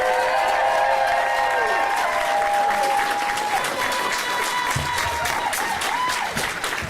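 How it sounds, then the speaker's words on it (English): A crowd applauds steadily for U.S. Senator Tammy Baldwin at a morning political event, dense loud clapping filling the whole stretch with a few cheers rising over it. "Let's give a giant round of applause for Senator Tammy Baldwin."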